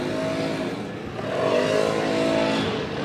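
A car with a swapped LS V8 engine runs close by, a steady throbbing idle that swells into a brief rev before settling back, with no voices over it.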